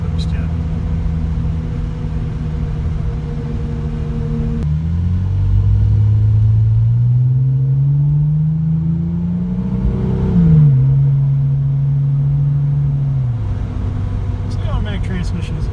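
A 2003 Porsche 911 Turbo of the 996 generation with automatic transmission accelerates from inside the cabin, its engine note rising and falling in a steady drone through several gear changes, loud and continuous for the whole stretch.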